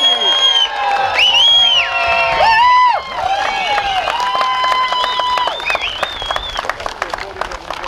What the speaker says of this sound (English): How about one more big round of applause as we welcome on stage?